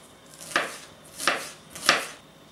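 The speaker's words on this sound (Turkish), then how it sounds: "3 adet taze soğan doğrayacağım." Three crisp knife chops through spring onions strike a cutting board at an even pace, close up and fairly loud, with quiet pauses between them.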